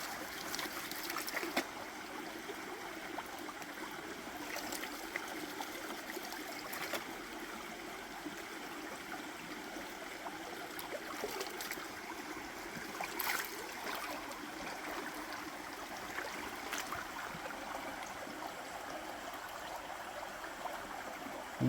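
Steady stream water trickling and gurgling continuously in a river during gold panning with a drop riffle sluice box, close and even, with occasional louder splashes and no talk.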